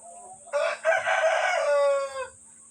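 A single rooster crows loudly and close by, one long drawn-out call lasting under two seconds against a quiet background.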